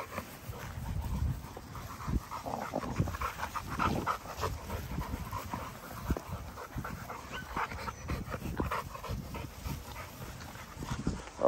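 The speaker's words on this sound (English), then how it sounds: "I don't want her to bite one of these puppies, and then Roxy get mad at her for biting one" XL pitbull dogs play with puppies, filling the stretch with panting, scuffling, soft whimpers and paw thumps at close range, fairly quiet and busy throughout.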